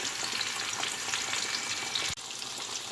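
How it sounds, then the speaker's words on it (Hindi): Fish pieces frying in hot oil until golden brown, a dense, steady crackling sizzle heard close up and alone, with one brief dip near the end. "फ़िश को मैंने ऑयल में डाल दिया है, अब हम इसे गोल्डन ब्राउन होने तक फ्राई करेंगे।"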